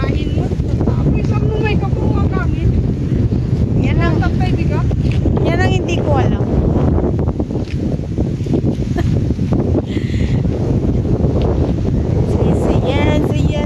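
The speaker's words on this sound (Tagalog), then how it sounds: "Mahangin po. Malapit sa dagat, kaya mahangin." Strong seaside wind buffets the microphone in a constant low roar beside the sea where houses are being built near sand dunes, while people talk over it throughout.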